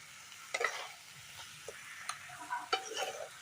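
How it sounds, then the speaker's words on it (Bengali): Chicken kosa stir-fried with meat masala and spices in a pan, heard as quiet, irregular scraping and clinking stirs over a soft sizzle, with a few sharper knocks of the spoon. "তারপর এখন এগুলাকে ভালো মতো কষাবো এগুলা দিয়ে"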